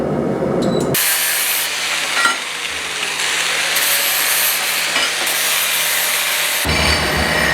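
A torch roars steadily while burning paint off steel in a blacksmith shop, a loud continuous hiss and rush that starts abruptly after a brief quieter lead-in and cuts off near the end.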